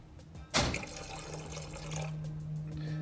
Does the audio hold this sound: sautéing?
no